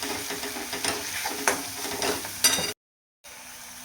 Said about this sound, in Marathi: आत्ता ते तिखट आहे तेलामध्ये छान परतून घ्यायचं एकदा.